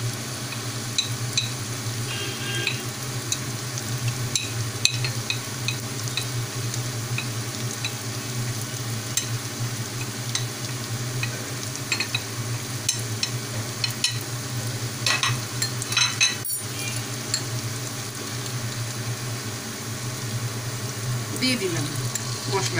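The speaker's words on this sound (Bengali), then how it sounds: "এবার দেব গুঁড়ো মশলাগুলো জলে গুলে নিয়ে দেব।" Spiced paste for an egg malai curry sizzles steadily in hot oil, with a continuous crackling fry running throughout and scattered scrapes of stirring. Faint speech sits under the cooking noise.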